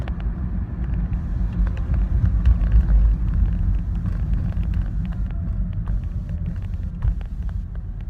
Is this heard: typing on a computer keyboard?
no